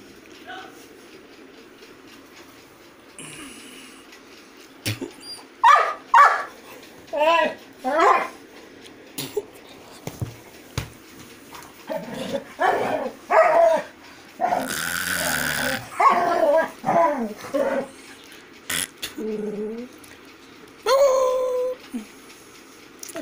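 A golden retriever barks and growls in loud, uneven bursts, with short pauses between outbursts, while people talk nearby.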